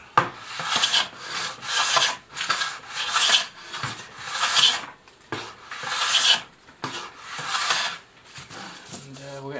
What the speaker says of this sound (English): Let's see if we can take a shaving.